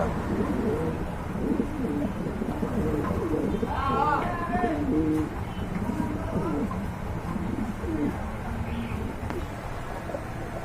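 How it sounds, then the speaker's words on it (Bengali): Pigeons kept for sale coo close by in soft, repeated rolling phrases over a busy background, while someone talks nearby. "পেছনেরটা ডাকতেছে নর"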